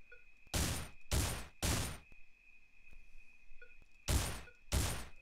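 Five pistol shots in the video game Survivalist: Invisible Strain, loud and sharp, fired in a quick run of three, then a pause and two more over a faint steady tone.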